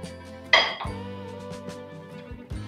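A metal kadhai being handled and set down on a gas stove, one sharp close clang followed by a ringing resonance and a few lighter knocks as it settles.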